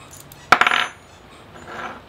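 A cheap eBay car hood lock springs open with its key, a sharp metallic clack followed by a brief rattle of small clinks, then faint rustling.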